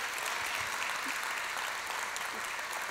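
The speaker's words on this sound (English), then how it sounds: "somebody clap your hands like that means something" A church congregation claps hands steadily, a dense, even patter of applause that carries on without pause throughout.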